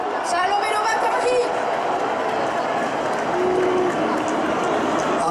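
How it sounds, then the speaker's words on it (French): Crowd applause at the opening ceremony of the Fêtes de Bayonne 2023, a dense steady clapping wash filling the whole stretch, with crowd chatter mixed in. "S'il vous plaît, applaudissons Henri Loquet."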